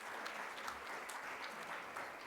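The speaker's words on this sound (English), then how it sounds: "can we have a big round of applause for the team?" A crowd at a doctoral convocation ceremony gives the team steady, even applause that sounds somewhat distant and subdued, with no pauses.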